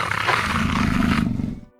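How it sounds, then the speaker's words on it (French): A monstrous beast lets out a loud, sustained roaring howl, deep and heavy like a huge infernal creature, holding strong for over a second before fading out abruptly, alone with no speech. "poussa un hurlement."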